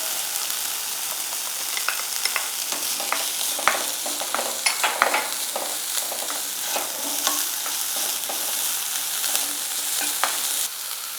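Chopped onion being stirred into a pearl millet batter for adai, with a steady, close scraping and mixing under a wet sizzle-like hiss and occasional sharp clicks, and no talking.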